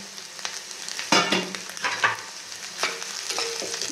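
Chopped potato and crushed peanut powder fry in a pan while a spoon stirs, giving a steady close sizzle broken by a few louder scraping strokes, with no voices.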